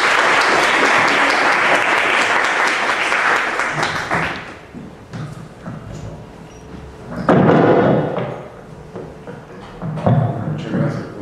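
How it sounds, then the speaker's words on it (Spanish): An audience at a doctoral literature colloquium gives a loud, dense burst of applause that runs about four seconds and then breaks into scattered claps and thumps, with a brief second swell later on. "Un fuerte aplauso para el doctor Harry Vélez"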